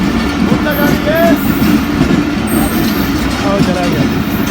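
A train rolls through Tando Adam railway station with a steady loud rumble and rail clatter close by, faint squeals and horn tones above, with people talking over it.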